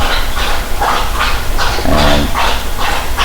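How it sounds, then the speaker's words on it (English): A dog barks loudly and repeatedly nearby, in a steady run of sharp barks, while someone spools line onto a baitcaster fishing rod. "Sorry for the dog. It's kind of loud."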